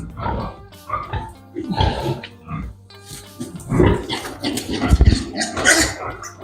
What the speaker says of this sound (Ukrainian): ось свинка середня, не знаю наскільки вона середня, але воно вона кричить зато